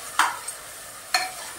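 A spatula stirs vegetable fried rice ingredients, with raisins just added, in a hot pan: two sharp scraping strokes with a faint sizzle between them.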